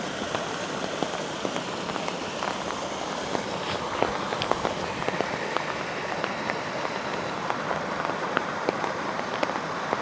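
Monsoon rain falling outdoors, a steady even hiss of drops with scattered sharper patters close by, continuous and unchanging throughout.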